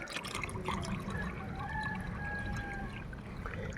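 Water trickles and pours into a guppy fish tank, a steady, close bubbling flow with faint tonal gurgles, continuous and unbroken with no talking.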